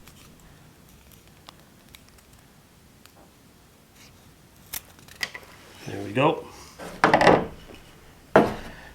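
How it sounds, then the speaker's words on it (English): A knife cuts thin slivers off a piece of softwood, giving a few short scraping, rasping strokes near the end, close and fairly loud after a quiet start, with a brief spoken remark. "So just using a knife, just cut yourself, well, maybe a little bit bigger than that."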